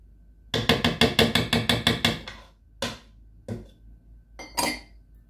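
Glass canning jars are set onto a metal cookie sheet while oven canning cornbread: a quick run of about ten clinking knocks, then three or four separate clacks, close and fairly clear.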